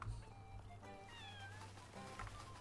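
A small cat in a video game gives several high, wavering meows over a low steady game hum, fairly quiet and close, with no talk.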